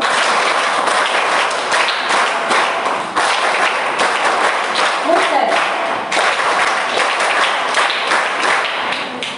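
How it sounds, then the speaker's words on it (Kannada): An audience at a women's association meeting in Bejai, Mangalore claps together, a dense burst of applause with rhythmic accented thumps running throughout, loud and close. "ಹಾಗೆ 3 ಸಾರಿ ಅವರು ಒಂದು ಚಪ್ಪಾಳೆ ಹೊಡೆದ್ರು"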